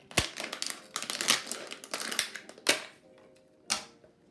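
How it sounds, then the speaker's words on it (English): A plastic bottle being cut open with its top sliced off, close crinkling and crunching of the plastic in quick irregular bursts, with a few sharper snaps. "let's cut off the top of our bottle"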